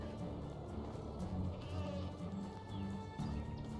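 Goats bleat in the medieval village-building video game Medieval Dynasty, several wavering calls rising over a low, steady ambient background.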